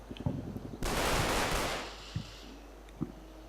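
Sporadic gunfire in the Combat Mission WWII strategy game: a short burst of automatic fire followed by a few isolated distant shots, with no talk.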